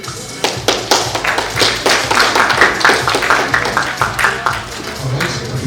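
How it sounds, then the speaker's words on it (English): An award ceremony audience gives scattered, uneven clapping, individual claps distinct and fairly close, while a voice talks over it. "A little applause, audience."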